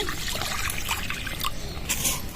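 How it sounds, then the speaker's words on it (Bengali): Water is poured into a kadai ahead of frying rui fish fingers, a steady trickling and splashing stream lasting a couple of seconds, close and fairly loud. "প্রথমে কড়ার মধ্যে জল দিয়ে দিচ্ছি"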